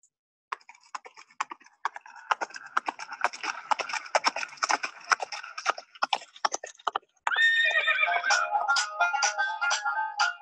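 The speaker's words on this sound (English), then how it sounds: "There's a canter." A horse canters, its hoofbeats forming a quick irregular clip-clop rhythm, followed by a loud whinny over the final seconds, heard alone without talk.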